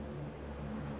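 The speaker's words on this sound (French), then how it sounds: "Excusez-moi pour le bruit, c'est un hélicoptère." A helicopter flies overhead as a low, steady engine drone with a faint tonal hum, fairly distant and muted, with no voices.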